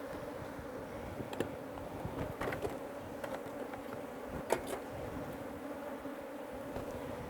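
Honey bees buzzing around an opened hive during a honey harvest in Uganda's Karamoja region, a faint, continuous hum punctuated by a few light clicks and knocks.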